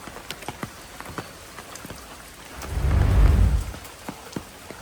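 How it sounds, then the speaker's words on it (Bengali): Heavy monsoon rain falling steadily in a rural Bangladeshi village, with a deep rumble of thunder swelling and fading midway through, the downpour continuing alone throughout. "2 দিন ধরে প্রচন্ড আকারে বৃষ্টি হইতেছে।"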